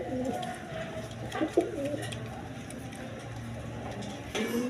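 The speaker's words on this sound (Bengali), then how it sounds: "এখানে এক পেয়ার কবুতর আছে, কালদম বা বাবরা কবুতর বলে" A pair of Kaldam or Babra breed pigeons coo softly and repeatedly at close range, low rounded calls rising over a steady background murmur.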